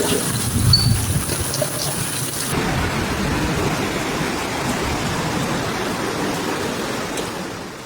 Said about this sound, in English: visibility dropped during the intense downpour